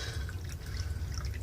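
Water trickles and drips in through a small hole, a steady close liquid patter with low rumble beneath, no talk.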